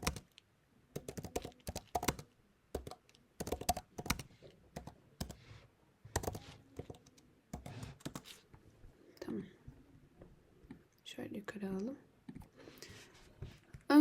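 Someone types on a computer keyboard in a quiet room, with close, light clicks coming in irregular bursts and short pauses, and soft speech heard faintly toward the end.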